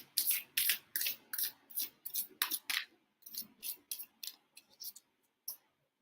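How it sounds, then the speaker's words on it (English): Tarot cards from a new Universal Monsters deck being shuffled by hand, a run of crisp riffling and flicking bursts in quick succession, close and alone with no talk. "I'm going to go ahead and shuffle these up"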